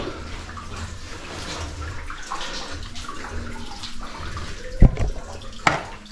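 Water flowing inside the Mawsmai cave at Cherrapunji in the monsoon, a continuous rushing, splashing wash nearby with a few louder sloshes and knocks near the end.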